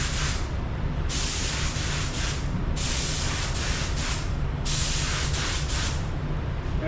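A spray gun lays tri-stage pearl paint (base, pearl, clear) onto a car hood during an auto body blend, heard as three sustained hissing bursts separated by short pauses.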